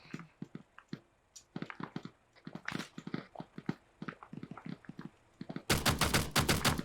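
Repeated gunfire crackles through a Navy SEALs special operations video game, rapid bursts and single shots at varying distance, ending in a loud sustained volley of automatic fire.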